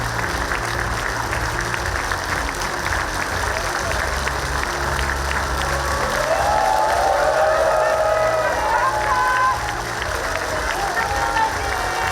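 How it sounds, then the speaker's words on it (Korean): A large crowd at the Gangwon Special Self-Governing Province launch ceremony applauds the arriving president, sustained clapping and cheering over a low musical hum, with a brief tonal fanfare in the middle. "큰 박수로 맞아주시기 바랍니다"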